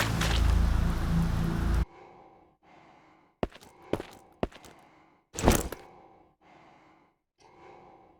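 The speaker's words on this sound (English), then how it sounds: "I like that you can hear our own breathing through the gas mask in the quiet rooms." Breathing through a gas mask in the video game Conscript, a slow series of heavy, close inhales and exhales with short breaks between them, after a loud burst of noise at the start, with no talk.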